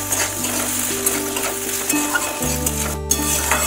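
Potatoes sauté in a pan with a steady sizzle and stirring scrapes close by, with a brief spoon clatter near the end.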